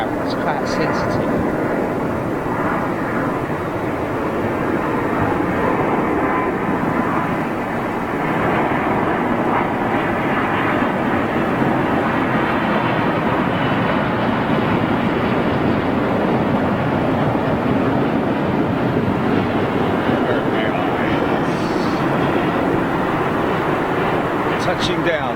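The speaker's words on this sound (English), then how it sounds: "Touching down, London Heathrow, 27." An airliner lands on runway 27 at London Heathrow at sunrise, a steady loud rumble of engines and roll-out, with a voice talking over it.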